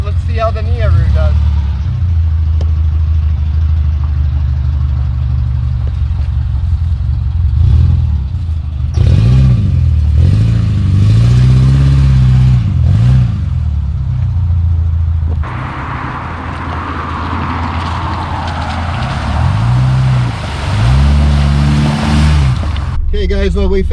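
A car climbs off-road terrain with its engine revving in repeated rising and falling surges, rough and loud, while people talk over it throughout.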